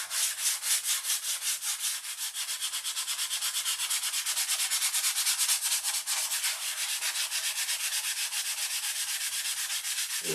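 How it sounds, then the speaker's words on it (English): Paint is sanded off a surface by hand in fast, regular rasping strokes, loud and close, each pass pulsing evenly for about ten seconds with no voices over it. "There's going to be a lot of sanding."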